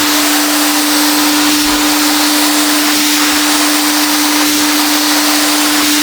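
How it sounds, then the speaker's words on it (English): A Titan Capspray 6 stage HVLP turbine paint sprayer runs steadily, a loud, constant whining rush of air with a sharp steady tone, with no talking over it. "When you hear low, you can notice the sound of the turbine drops a lot"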